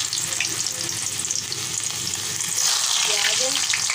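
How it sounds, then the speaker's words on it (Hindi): Garlic, onion and cumin sizzle in hot oil for a dal tempering, a steady close crackle that swells louder partway through. "देखिए मैं भंगार लगा रही हूँ दाल में।"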